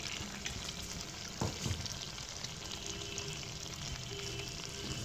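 Chicken with carrots, capsicum and green chillies sizzles steadily in a pan, a continuous close frying hiss broken by a brief clatter of stirring.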